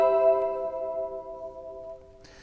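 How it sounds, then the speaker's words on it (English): GS1 hybrid synth voice triggered from a guitar through a Fishman TriplePlay controller: one soft, sustained tonal note that slowly decays, faint and alone, with a small click at the end. "So sound one is currently our GS1 hybrid, which is a synth, sounds like this."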